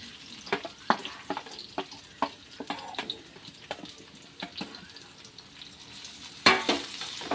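Ripe jackfruit and sago sautéing in ghee in a pan for jackfruit payasam: a soft sizzle runs underneath while a spoon stirs and scrapes in repeated taps, close by and with no talking.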